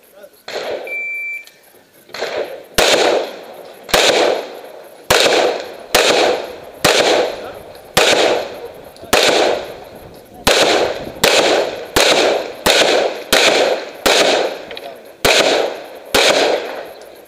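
Gunshots ring out at an Israeli shooting championship, a long series of sharp, loud reports about a second apart with brief echoing decays, after a short electronic beep at the start.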